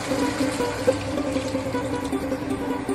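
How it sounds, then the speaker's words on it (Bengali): Water is poured into a pot of cooking vegetables for Bengali shukto, a soft, steady splashing and trickling that lasts about three seconds. "এবার জল দিচ্ছি, এই দেখো।"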